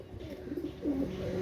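A pair of Pakistani Kamagar pigeons coo in soft, low, rolling calls that swell and repeat, close by and fairly quiet, with no talking.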